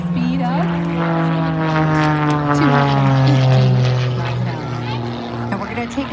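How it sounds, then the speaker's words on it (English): An Extra aerobatic airplane built for world-level competition passes at an air show, its propeller engine droning loud and close with a falling pitch, while an announcer talks over it. "airplane was designed and built by Extra Aircraft for use in world-level aerobatic competitions"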